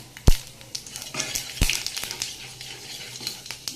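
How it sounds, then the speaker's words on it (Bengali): Panch phoron spices sizzle in hot oil in a wok, a soft crackling fry punctuated by a few sharp clinks of a utensil against the pan as it is stirred. "কড়াই আবার তেল দিয়ে দিয়েছি এবার একটু পাঁচফোড়ন দিয়ে নিচ্ছি"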